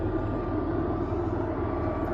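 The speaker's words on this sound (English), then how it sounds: "I think that's a plane." Airplane flying overhead, a steady broadband roar with low rumble that holds at an even level throughout, distant and continuous with no voices.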